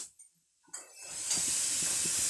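Oil heating in a pan for aloo posto gives a soft hiss. After a brief near-silent start it rises into a steady sizzle that stays close and even, with faint faster crackles underneath.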